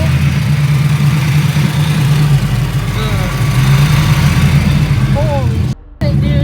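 An LS-Z car engine runs at a steady idle, a loud, constant low rumble that continues almost the whole time and briefly dips near the end.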